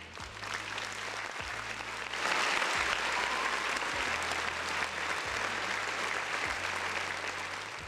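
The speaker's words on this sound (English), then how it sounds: "I got to give Jim Ryan a round of applause" Sustained applause from a crowd, steady dense clapping that swells slightly partway through, with a low droning hum beneath.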